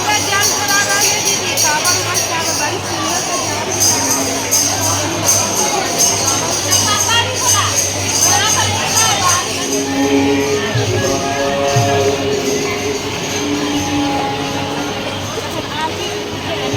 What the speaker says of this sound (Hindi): ढोल की, मंजीरों की, तालियों की आवाज़ आ रही है और भजन आदि चल रहे हैं